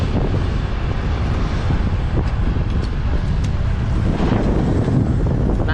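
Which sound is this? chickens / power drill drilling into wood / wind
wind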